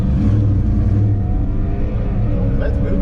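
An LT1 Camaro lines up against a 5.0 at a track day, its engine a loud, close, continuous drone with a slight rise, while a voice talks over it.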